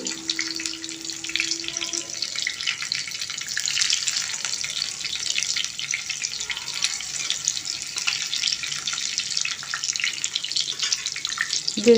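Red lentil patties fry in oil in a pan over lowered gas heat, giving a steady, dense sizzle and crackle that runs unbroken throughout with no talking.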